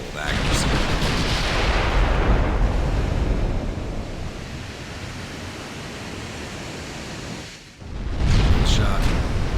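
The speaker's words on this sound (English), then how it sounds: "almost all of her salvos are hitting me" Naval gunfire from battleships in Ultimate Admiral: Dreadnoughts, heard as a broad, sustained roar of rumbling salvos and washing noise. A short dip near the end is followed by another loud burst.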